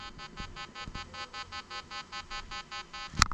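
Low, faint pulsing tone from a Nokta Legend metal detector passed over an iron bolt, a steady throbbing hum with regular beats, followed by a brief sharp click near the end.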